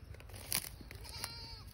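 A goat on a farm bleats faintly in the distance over outdoor rustling and a few crunchy handling noises, with no talk.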